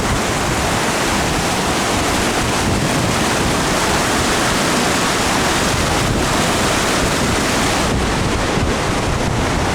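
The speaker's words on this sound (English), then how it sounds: "How about that waterfall?" Waterfall rushing in the Rocky Mountains, a loud, steady roar of falling water with a constant broadband wash and some wind buffeting the microphone, sustained throughout without voices.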